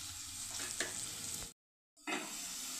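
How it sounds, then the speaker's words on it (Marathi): Finely chopped medium onion sautéing in a pan for pav bhaji, a steady close sizzle with stirring scrapes, broken by a brief silent gap before the frying resumes. "बारीक चिरलेला आहे कांदा. थोडंसं आपल्याला परतवून घ्यायचं आहे."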